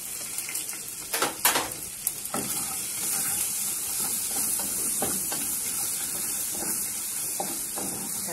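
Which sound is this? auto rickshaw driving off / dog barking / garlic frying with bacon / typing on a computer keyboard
garlic frying with bacon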